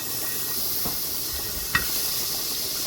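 Half a cube of butter sizzles in a hot pan, giving a steady hiss throughout with one brief sharper crackle near the middle, close and alone.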